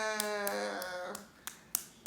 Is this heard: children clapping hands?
yes